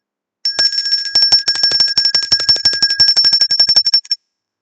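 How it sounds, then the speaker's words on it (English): A bell rings loud and close in a rapid, continuous trill of about thirty quick strikes over nearly four seconds, then stops abruptly. "ring the bell"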